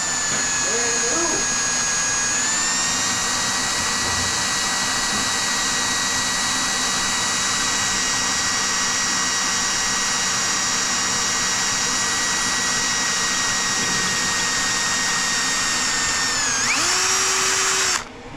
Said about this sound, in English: Let the drill do the work, Jay